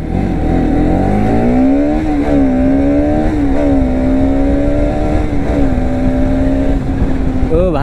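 A motorcycle exhaust roars steadily on a Sunday road ride near Indore, a loud close drone whose pitch swells and eases slightly throughout.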